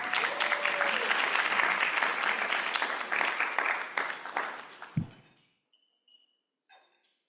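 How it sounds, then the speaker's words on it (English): Audience at a pain management keynote claps loudly for about five seconds, the applause thinning and ending in a sharp thump, followed by near silence and a few faint sounds. "And a round of applause."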